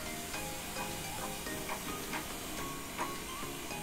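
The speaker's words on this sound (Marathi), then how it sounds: "असं गोल्डन ब्राऊन होईपर्यंत आपल्याला छान भाजून घ्यायचे, तळून घ्यायचे आहेत." Coconut-filled karanji deep-frying in hot oil, a steady low sizzle and hiss with occasional faint pops and crackles, continuous and close, no talking.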